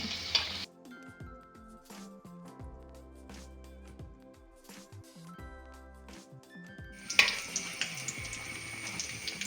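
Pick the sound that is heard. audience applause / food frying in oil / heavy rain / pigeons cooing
food frying in oil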